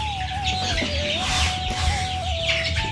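Young 22-day-old chickens cluck and peep steadily nearby, with a thin continuous peeping tone running through a busy coop murmur for about three seconds.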